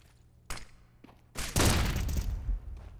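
A flashbang and gunfire in an esports shooter match: a sharp crack, a smaller pop, then a loud sustained burst of blasts and shots for over a second, fading into quieter game ambience.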